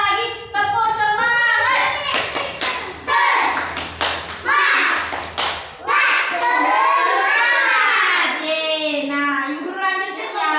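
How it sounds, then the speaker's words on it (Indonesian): Young schoolchildren in a classroom perform a rhythmic spirit clap led by their teacher, sharp patterned hand claps alternating with children chanting and calling out together, loud and close. "Tepuk semangat."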